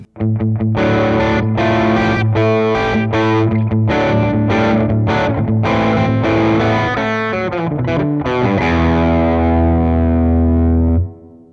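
Electric guitar through a REVV D20 amp, gain turned up, roars out distorted chords and riffs with chorus-like shimmer, loud and close, ending on a long sustained chord that fades out.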